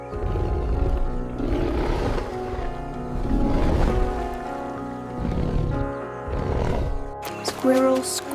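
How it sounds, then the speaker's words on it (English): A lion's roar from a jungle safari animal-sounds collection for children, heavy and sustained over several swells, set against a dense musical bed, with a brighter different sound cutting in at the very end. "Lion, make roar."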